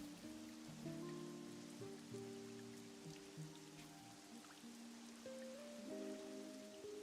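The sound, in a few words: rain in the video game Pokémon Unite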